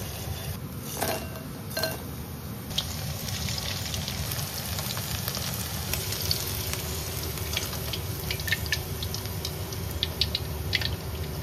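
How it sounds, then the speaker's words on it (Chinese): Strips of marinated pork deep-fry in moderately hot oil over medium-low heat, a steady, even sizzle and crackle throughout, with a few faint clinks of utensils against the pot. "油溫5成熱，我們再下去炸中小火炸"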